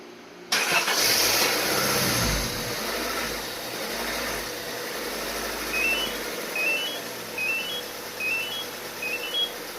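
A Honda Del Sol engine cranks and starts by remote start, then settles into a steady idle, with a few faint electronic beeps chirping toward the end.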